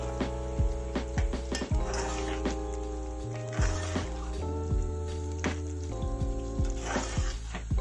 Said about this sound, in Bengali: এবার আমার ফ্রাই করা চিকেন আমি এর মধ্যে অ্যাড করে দিচ্ছি।